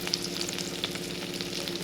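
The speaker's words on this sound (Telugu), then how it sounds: "ఈ ఆయిల్లోకి కట్ చేసి పెట్టుకున్న ఆనియన్స్ పచ్చిమిర్చి వేసేసుకోండి" Continuous crackling sizzle of chopped onions and green chillies frying in oil, steady and close, with no talking.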